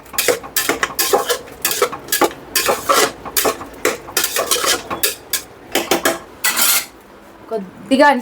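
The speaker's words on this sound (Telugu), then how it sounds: "ఇవన్నీ వేసి మళ్ళీ ఒకసారి కలుపుకుందాం." A metal spoon scrapes and clanks rhythmically against a pot, close and loud, as spices are stirred into mutton curry in a cloud kitchen, with a brief pause before the final strokes.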